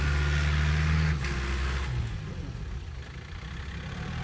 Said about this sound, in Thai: รถไถเฮาดันกับยันมาครับ